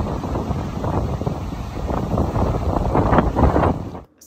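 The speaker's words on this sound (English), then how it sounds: "the wind was just terrible." Strong wind gusting across an open beach, a loud continuous roar buffeting the microphone throughout, swelling toward the end before cutting off abruptly.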